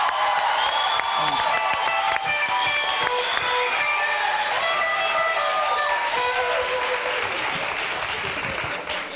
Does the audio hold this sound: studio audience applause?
yes